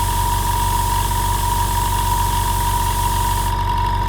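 Iwata IS975 airbrush compressor running steadily to pump its tank back up, a continuous close mechanical drone with a strong steady hum and even vibration throughout, with no talk.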